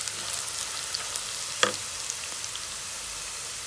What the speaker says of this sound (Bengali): পেঁয়াজটা একটু হালকা ভেজে নেব, তারপর সব মশলা দিয়ে দেব।